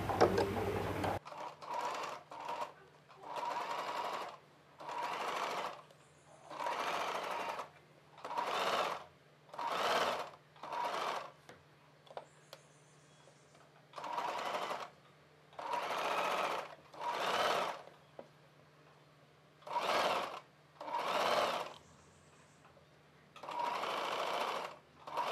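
A domestic sewing machine stitches around the neckline of a kid's summer frock in repeated bursts of rapid whirring, each a second or two long, separated by short pauses, close and clear with a faint hum between runs.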